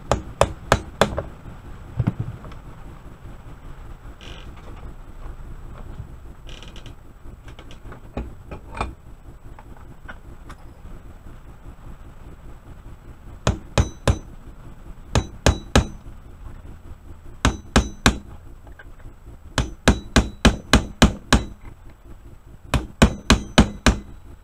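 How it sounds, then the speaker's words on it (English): Sharp hammer taps driving a pin out of an SKS rifle gas tube held in a vise, close and loud, coming in quick bursts of several strikes with pauses between. "I just want to hold it while I tap this pin out."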